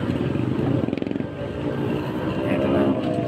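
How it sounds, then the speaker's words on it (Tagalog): A motorcycle engine hums and rattles on the road ahead on the way toward the NLEX extension in Bulacan, a moderate steady drone heard from a following vehicle. "may motor lang sa harapan natin pero overtake na tayo"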